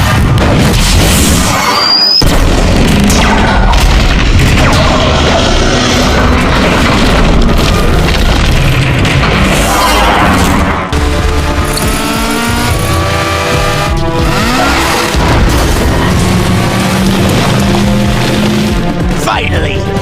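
Loud explosions and crashing debris fill a Transformers movie scene as a bridge is destroyed, with dense booms, roaring engines and metallic clatter throughout, and voices heard in the mix.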